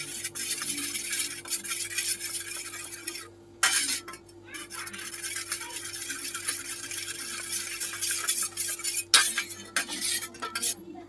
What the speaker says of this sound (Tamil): அந்த அளவுக்கு நல்லா கிளறி விட்டுக்கோங்க, எந்த ஒரு பிசுறும் இல்லாமல்